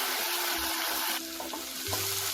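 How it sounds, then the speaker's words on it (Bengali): Ginger, garlic and green chili paste fries in a pan for a vegetarian aloo fuluri curry, a sizzling hiss with a few stirring scrapes near the mic and no voices. "এটাকেও আমি 2-3 মিনিট ভালো করে ফ্রাই করে নেব, যাতে আদা রসুনের কাঁচা গন্ধটা চলে যায়।"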